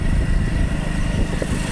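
A motorbike on a road gives a steady low engine rumble mixed with road noise, close and fairly loud for under two seconds, with no clear pass-by swell.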